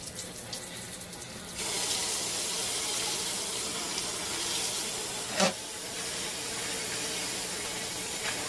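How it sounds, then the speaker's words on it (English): A kitchen sink tap runs steadily, an even hiss of flowing water that rises when the flow opens up and keeps going with a brief clunk partway through. "Sorry for the noise of my sink."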